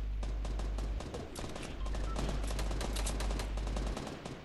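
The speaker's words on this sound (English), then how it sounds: "Someone is shooting, and I think they're shooting at me." Continuous machine-gun-style gunfire in Fortnite, dense rapid shots firing in a steady stream for about four seconds over a constant low hum, moderately loud with no talk.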